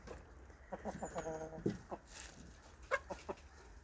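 Several chickens cluck in short, irregular bursts nearby, with occasional louder squawks over a quiet background.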